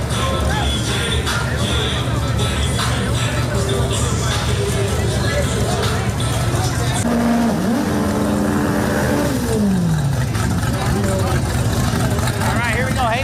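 Engines of a Honda hatchback and a twin-turbo Silverado at a small-tire drag racing event, loud and continuous, rising in pitch through gear changes beneath crowd chatter, with talk in the background.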